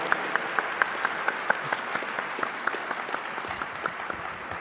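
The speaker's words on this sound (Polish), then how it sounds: "I w tym ostatnim akcencie poprosimy jeszcze o gorące brawa dla naszego konferansjery Kuby Szymborskiego" An audience bursts into warm, sustained applause at a Christmas carol evening performed by priests at a sanctuary church, many hands clapping steadily at moderate distance with no voices on top.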